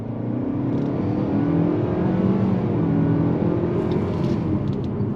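A 2022 Nissan Altima Midnight Edition sedan with a CVT accelerating under throttle, a steady loud droning engine note heard from inside the cabin, holding a fairly constant pitch with a slight rise, no voices.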